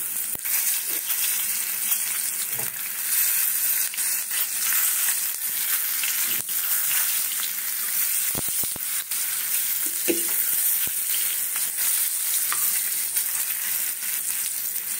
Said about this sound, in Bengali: হলুদ দিয়ে এই যে আলুগুলো আছে না, এই আলুগুলোকে একটু ভেজে নেব, হালকা ভেজে নেব